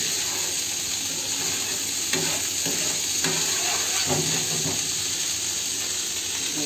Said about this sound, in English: We'll cook the ginger garlic paste till the rawness of the garlic and ginger goes away.